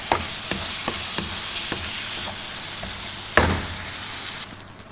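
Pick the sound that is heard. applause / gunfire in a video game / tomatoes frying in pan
tomatoes frying in pan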